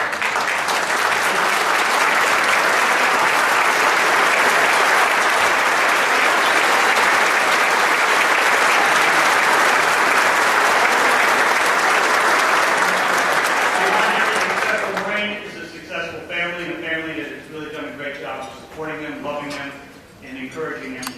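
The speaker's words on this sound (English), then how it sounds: "give you a round of applause" A large awards-dinner audience applauds award winners' family members with loud, sustained clapping for about fifteen seconds, then it stops and a speaker talks.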